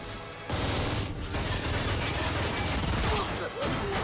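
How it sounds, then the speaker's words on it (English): A ship's heavy gun fires in a loud mechanical barrage from the war film Edge of Tomorrow, with dense clattering, ratcheting bursts rolling continuously and briefly dropping in short gaps. "Oh, it's the ship's gun."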